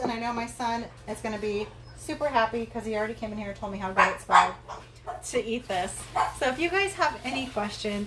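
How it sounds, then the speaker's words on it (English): Dogs bark and yip repeatedly in the background of a home kitchen while someone talks over them, the sharp barks scattered irregularly and mixed with her speech. "Sorry about my dogs barking."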